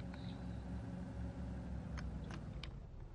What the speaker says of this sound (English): It's a van.